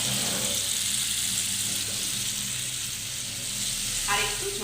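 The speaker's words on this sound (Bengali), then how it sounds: "এবার আমি এই মশলা ধোয়ার যে জলটা রয়েছে সেটা আমি এখানে দিয়ে দিলাম।" Water left from rinsing ground spices is poured into a hot pan of bata fish jhal, setting off a loud, steady, close sizzle that hisses on throughout.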